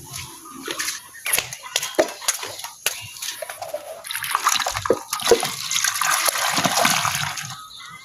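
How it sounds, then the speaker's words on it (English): Water poured out at a poultry farm during an organic deworming treatment, a steady broadband splashing stream with birds calling in the background. "Let me add more water here."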